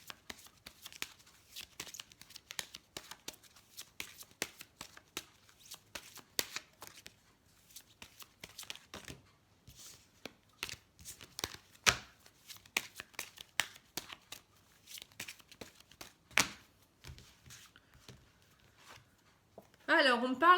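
Oracle cards shuffled by hand for a love reading, soft close riffling and card flicks in irregular bursts, with a quiet voice speaking at times.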